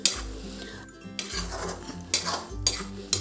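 Fresh peas and spinach being stirred in a pan with a spatula, with rhythmic scraping strokes, light metallic clinks and a soft sizzle over a steady low hum.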